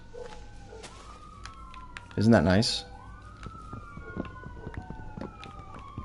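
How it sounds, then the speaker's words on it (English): A police siren wails in the distance outside a house, rising and falling faintly under a quiet outdoor background, with a brief burst of nearby speech midway. "listen to the police sirens outside my house"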